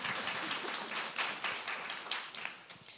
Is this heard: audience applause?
yes